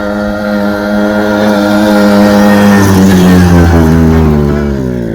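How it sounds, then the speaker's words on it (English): A quad ATV engine, just after a carburetor rebuild, idles and runs steadily nearby with a strong harmonic drone that swells slightly and wavers in pitch midway, with no talking. "We got the carburetor back on the quad. There it is, running."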